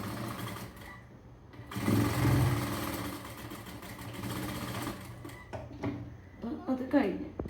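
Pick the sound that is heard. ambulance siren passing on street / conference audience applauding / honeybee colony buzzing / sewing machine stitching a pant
sewing machine stitching a pant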